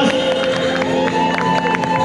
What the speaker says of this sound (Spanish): Un fuerte aplauso para nuestras reinas